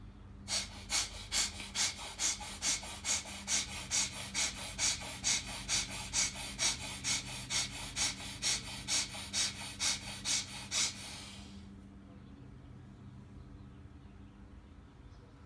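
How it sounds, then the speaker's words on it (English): Rapid, rhythmic nasal breaths during a pranayama breathing exercise pulse evenly about twice a second, close and clear, then stop abruptly, leaving quiet room tone. "normal breath"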